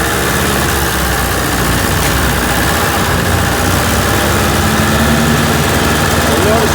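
An M151A2 military jeep labours uphill in second gear under load, its engine and driveline producing a loud, constant close-up drone with steady road and wind noise and no pauses.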